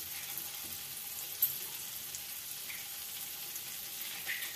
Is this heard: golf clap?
no